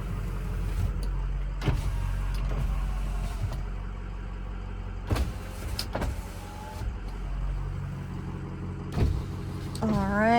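Power windows run on a 2007 Ford F250 Powerstroke truck, several motor whirs starting and stopping with clunks as the glass hits its stops, over a low idling engine hum.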